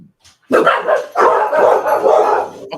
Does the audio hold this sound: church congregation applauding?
no